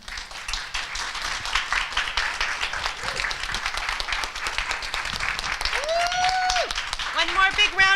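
Enthusiastic audience applause at a self-love themed talk, dense clapping throughout with cheers and whoops rising near the end over the crowd.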